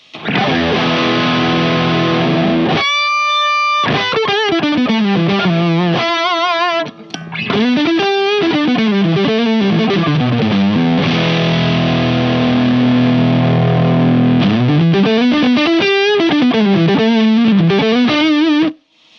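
Heavily distorted electric guitar played loud through a Hughes & Kettner Spirit AmpMan Classic with gain on full, sustained chords and sliding notes with a brief pause early on.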